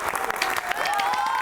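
Brief applause and clapping for a podcast guest rise quickly, with a few sharp claps followed by a steady patter, and a voice cuts in over it partway through.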